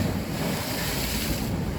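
Sea waves surge against rocks on the Crimean coast, producing a steady, loud roar of surf close by, blended with heavy wind buffeting the microphone, with no speech.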